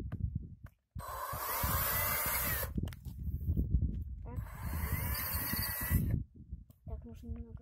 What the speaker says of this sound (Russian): В центр глаза ставишь шуруповерт